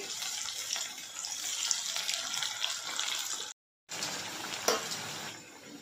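Potatoes frying in oil for Cajun potatoes, a quiet, steady bubbling sizzle with a brief gap and one crackle burst later, no talking.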